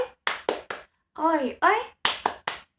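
Classroom spirit clap: bursts of sharp rhythmic claps from a group of children in two quick sets, broken by a loud shouted chant in the middle.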